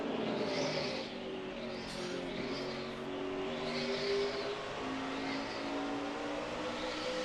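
NASCAR Sprint Cup stock cars race at the 2010 Subway Fresh Fit 600, a dense, continuous engine roar with waves of cars sweeping past at a steady distance.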